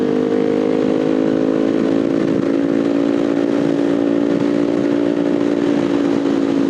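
A Kawasaki Ninja, a lower-cc motorcycle, drones loudly and steadily while being ridden, its engine holding a constant high buzzing note with wind rush and no pauses.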